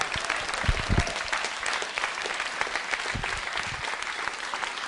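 Audience applause at a school quiz show, loud and continuous throughout, with bursts of claps and a few faint voices mixed in the crowd.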